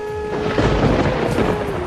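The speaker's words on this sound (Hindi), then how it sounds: "ये बारिश तो रुकने का नाम ही नहीं ले रही।" Heavy rain pours loudly while thunder rolls in a deep continuous rumble, dense and close with no pauses.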